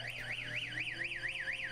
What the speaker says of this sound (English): that dust collector alarm actually works good